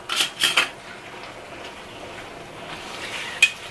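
Meat sauce for lasagna is stirred in a metal pot, a few quick clanks and scrapes of the spoon at the start, then a quiet simmer and one last sharp tap.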